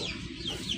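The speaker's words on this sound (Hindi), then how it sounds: "लाखा मेरा मर गया था, तो माशाल्लाह बहुत प्यारा मुर्गा है।" A pet rooster on a village farm gives soft, close clucking calls, a few short rising notes over a steady low background murmur.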